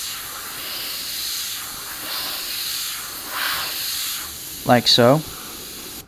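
A small compressor feeds an airbrush as it sprays paint onto fishing lures, giving a steady soft hiss of air throughout, with a short stretch of speech near the end.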